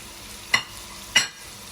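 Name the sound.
stirring pumpkin into risotto in a pan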